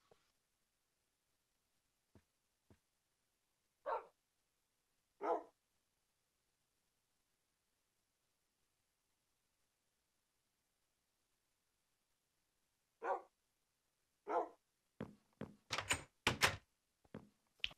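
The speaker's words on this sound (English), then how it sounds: "I can't believe my dog spawned next to me." Tamed wolf dog in Minecraft gives a few scattered single barks in the first seconds, then a quick cluster of sharp barks near the end, separated by long silent gaps.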